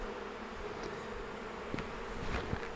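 Honey bees buzz around the front of a hive box after a nuc is installed, a steady close droning hum with faint individual passes.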